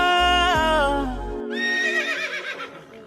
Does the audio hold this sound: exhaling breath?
no